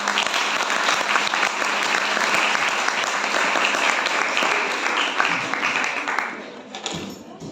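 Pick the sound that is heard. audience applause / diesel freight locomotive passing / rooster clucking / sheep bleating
audience applause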